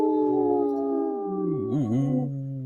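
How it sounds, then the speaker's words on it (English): Wolves howl in a long, sustained chorus of overlapping tones that rise, dip and waver together, fairly close and loud, with no voices over them. "lots of good howls there"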